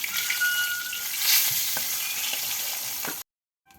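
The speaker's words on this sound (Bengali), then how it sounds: "মাছগুলো ভাজি হয়ে গেছে, এবার তুলে নেব" Steady crackling sizzle of fish frying in hot oil, close and fairly loud, with a few spatters before it cuts off abruptly.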